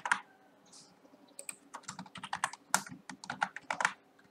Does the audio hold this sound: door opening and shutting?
no